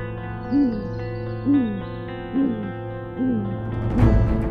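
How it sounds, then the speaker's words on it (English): A great horned owl (Bubo virginianus) in the Amazon gives four deep, evenly spaced hoots over a steady low hum, each call rising and falling, with a louder burst of noise at the end. "The great horned owl, scientifically known as Bubo virginianus, is one of the largest owl species"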